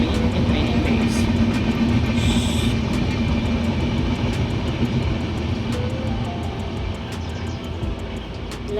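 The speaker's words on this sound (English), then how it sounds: "a train is passing by" A train rolls past close by in a long, steady rumble with faint rail clatter, loud and continuous throughout.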